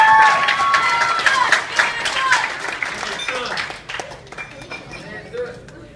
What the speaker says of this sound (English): how about a round of applause for this?